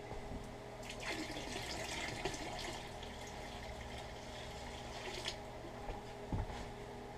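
Water poured into a home-brew IPA batch, a soft continuous splashing and trickling into liquid with occasional brief drips and knocks, fairly quiet and close, with no talk.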